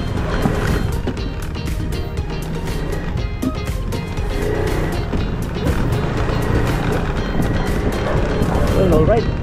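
A motorbike rides toward a fishing spot at the Mega Dike in Dampalit, Malabon. Its engine and wind make a steady, loud low rumble that runs the whole way without a break.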